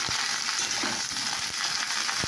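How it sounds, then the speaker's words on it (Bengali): Cauliflower with potato and chilli frying with a dense, steady sizzle, punctuated by a few soft spatula strokes, close up and alone. "একটু ফুলকপিটা নাড়া হচ্ছে হোক।"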